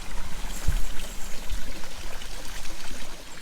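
A small backyard water feature with a little waterfall gives a steady, soft splashing trickle, continuous and close, with no voices.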